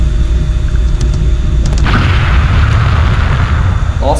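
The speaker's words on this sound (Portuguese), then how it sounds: "Nossa, explodiu, rapaz." An explosion in a Super Mario 64 ROM hack set over lava: a loud deep boom bursts out midway and rumbles on to the end, masking the steady game noise beneath.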